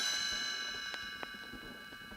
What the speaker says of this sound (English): You will know it is time to turn the page when you hear the chimes ring like this.